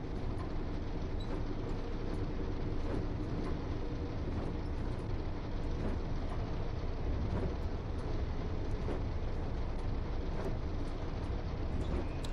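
Steady low rumble inside the quiet driver's cab of an 800 series train in Train Sim World 6, a constant broadband hum with faint clicks on top, no speech.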